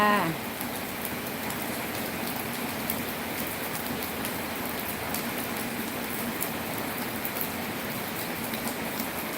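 Steady rain pours down continuously on a windless morning, a dense even hiss of drops with no voices, close and fairly loud throughout.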